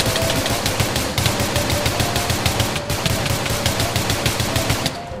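AK rifle fire in Minecraft, a steady rapid automatic burst of loud, evenly spaced shots that runs continuously for about five seconds, alone and close-up.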